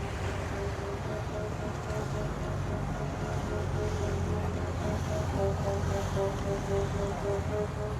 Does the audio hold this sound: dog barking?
no